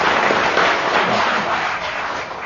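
A studio audience at a comedy panel show, I'm Sorry I Haven't a Clue, breaks into steady applause: a dense, unbroken wash of clapping, fairly loud and sustained, easing off slightly toward the end.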